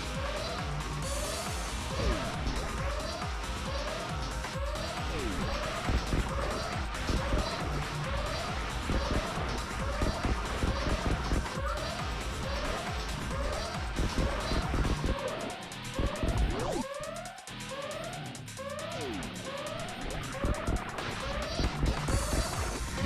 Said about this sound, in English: I took the music for the most stressful story mode mission in the entire game, and I added the low HP siren to it as well